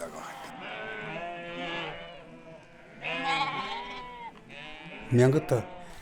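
A flock of sheep, near 600 animals, bleat repeatedly, several overlapping calls near and far, with one louder bleat close by at the end.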